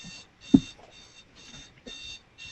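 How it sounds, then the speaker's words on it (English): A phone or clock alarm going off indoors, repeating beeping bursts in a steady on-off rhythm at moderate volume, with a faint thump of handling noise. "Why the hell is my alarm going off?"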